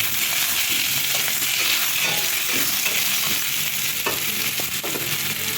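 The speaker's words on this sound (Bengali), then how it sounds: "আর কড়ার মধ্যে আলুটা তুলে দিলাম।" Potatoes fry in oil in a wok (kadai) alongside earlier-fried okra, giving a steady close sizzle with intermittent scraping stirs of a spatula throughout.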